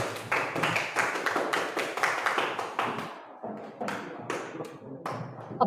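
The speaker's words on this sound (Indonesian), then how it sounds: "Beri tepuk tangan untuk temannya" A classroom group claps for classmates after a story reading, quick uneven hand claps that start strong, then slow into scattered, fading taps.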